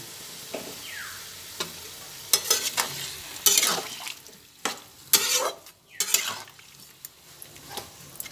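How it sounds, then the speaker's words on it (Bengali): Shukto vegetables stirred in a pan right after water is added, with a spatula clanking and scraping against the metal in irregular close strokes over a faint simmering sizzle. "জল দিয়ে একটু ভালোভাবে নাড়াচাড়া করে নিলাম।"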